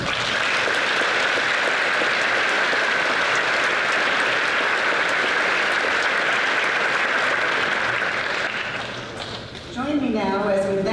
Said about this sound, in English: Please a round of applause for the honors staff and faculty who worked so hard.